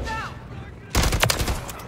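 Rapid bursts of SVA 545 rifle fire in Modern Warfare III, loud and close, starting abruptly after a near-silent first half and continuing as a dense, crackling string of shots.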